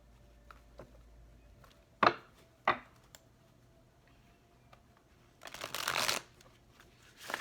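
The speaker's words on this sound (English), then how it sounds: "All right, we're going to have one more shuffle." Tarot cards being shuffled by hand: a few sharp riffles and taps early on, then a longer burst of shuffling, close and quiet with no talking.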